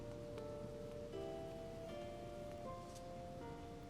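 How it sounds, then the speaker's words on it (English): Soft steady rain ambience from Zelda Skyward Sword HD, a continuous gentle patter accompanied by quiet, calm tonal game music notes. "we also have the rain ambience"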